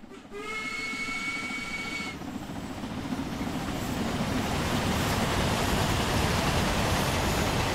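Steam locomotive in the Train Sim World 2 game, its whistle sounding briefly at the start, then a steady, loud, rumbling rolling noise of the running train that builds slightly and continues alone.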